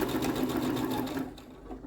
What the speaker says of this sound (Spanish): levanto el prensatela, giro, bajo el prensatela y sigo cosiendo